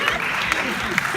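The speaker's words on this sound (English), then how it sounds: "Oh, well, I got a good applause." Audience applause at a lifetime achievement award speech, a steady patter of clapping with a few sharper hand claps standing out, moderately close, with a voice speaking briefly underneath.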